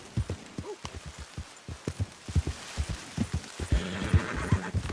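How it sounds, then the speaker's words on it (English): Horse in Red Dead Redemption 2 snorting and whinnying over a run of irregular hoof thuds, close and fairly loud, with a rain-like hiss building toward the end. "drunk horse"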